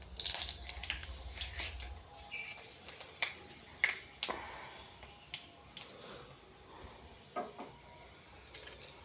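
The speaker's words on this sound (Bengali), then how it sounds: "তো আমি দেবো কি, পাঁচফোড়ন দেবো।" Panch phoron five-spice seeds crackle and pop in hot oil in a home kitchen, giving scattered sharp snaps and ticks over about nine seconds, busier at the start and then sparser, with no talking.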